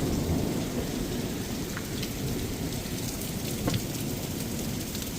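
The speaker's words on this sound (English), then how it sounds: "Well, this kind of blew up and is going to rain for a while." Heavy rain pours steadily over a farm driveway during a thunderstorm, a dense continuous roar with faint rumbles of thunder and no voices.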